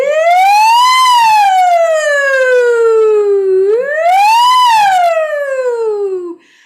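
A loud, clear voice imitates a siren, sliding up and then gliding slowly down twice in a wailing pattern before cutting off.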